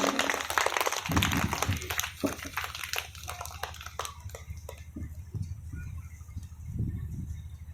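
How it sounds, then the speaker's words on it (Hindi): Audience at a school annual day function clapping to welcome a guest, a burst of scattered hand claps that thins into a few sparse claps and fades, moderately distant. "तो जोरदार तालियों से इनका स्वागत करें।"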